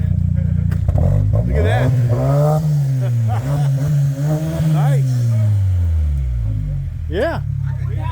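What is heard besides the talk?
Santa Cruz with aftermarket Hot Tamale exhaust revving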